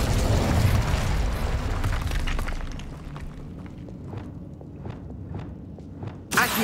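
Incendio fire spell cast in Hogwarts Legacy, a loud broad whooshing burst of flame that fades into a crackling rumble, followed by a series of soft footsteps.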